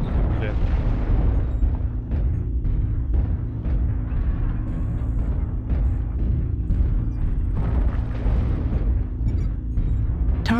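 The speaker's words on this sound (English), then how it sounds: "Artillery strike online." Artillery strike explosions go off in the mech combat game MechWarrior Online, heavy booming blasts rumbling one after another under a robotic announcer's voice and other talk.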